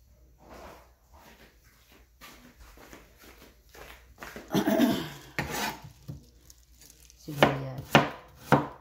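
Onion being cut with a knife on a board while making salmon kinilaw, with soft, irregular chopping and scraping strokes that grow into louder, heavier knocks toward the end, close and without speech.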